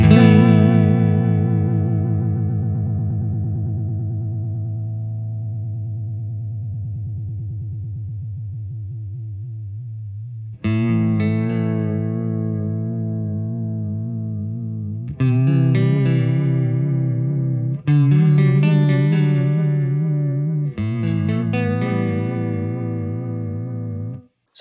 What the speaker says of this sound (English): So now we're actually hearing the note kind of pitch up and down a little bit.